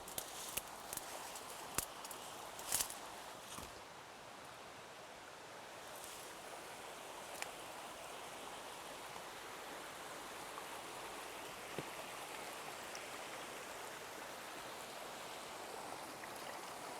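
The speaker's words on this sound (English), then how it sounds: "I hear water running out there." Water runs steadily in an outdoor creek, a continuous soft wash that stays even throughout with no voices, broken only by a few faint clicks and knocks.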